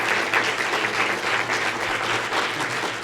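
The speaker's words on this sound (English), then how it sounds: "So a big round of applause for everybody." A crowd claps steadily and evenly throughout, an unbroken wash of applause from the audience at a Greater Bowie Chamber of Commerce candidates' forum, with no talking over it.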